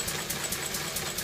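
A 1951 Lister D stationary engine runs at a steady idle, a faint, even mechanical chugging with a regular beat and no voices over it.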